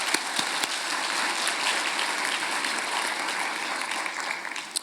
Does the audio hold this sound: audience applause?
yes